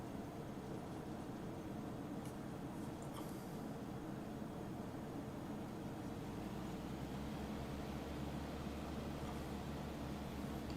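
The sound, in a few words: low revving engine of an old trainer aircraft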